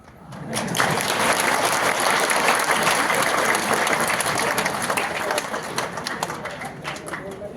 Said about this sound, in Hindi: आज आप लोग भी जोर से ताली बजा दो